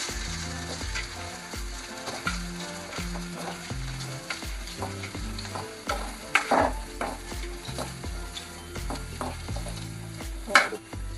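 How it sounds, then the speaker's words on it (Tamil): Chillies, onion and tomato sauté in a pan, a steady close sizzle broken by frequent stirring scrapes and clanks of utensil against the pan, with a few sharper spits near the end. "மிளகாயை போட்டு ரெண்டாவது வெங்காயத்தை போட்டு மூணாவது தக்காளி எல்லாத்தையும் வதக்கி நல்லா வதக்கணும்"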